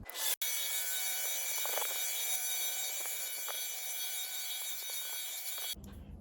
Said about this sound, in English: to do pressure grinding stuff you want the grinder going flat chat, so it's going to be loud